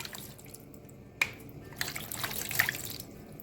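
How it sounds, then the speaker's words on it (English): Cold water splashes and trickles as it is poured over fresh homemade butter sitting in a strainer, with a sharp first splash followed by a short run of close pouring. "you take some cold water, you do this 3 times, just pour it over"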